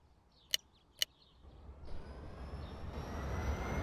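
Aircraft engine starting up in the flight simulator X-Plane 10, two sharp clicks followed by a faint whine and rumble that slowly builds and grows louder.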